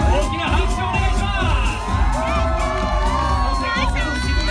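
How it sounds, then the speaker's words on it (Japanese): A crowd at a tuna-cutting show in a Shibuya club cheers loudly and continuously, with whoops and high shouts over a thick hubbub. Any clapping is buried in the noise. "大きな拍手をお願いします"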